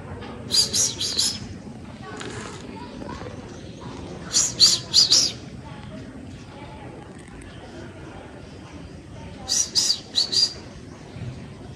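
Grey francolin calling in bursts of shrill, high repeated notes, three clusters spaced several seconds apart, heard nearby over a steady murmur of talking voices while the bird is fed grass and soil.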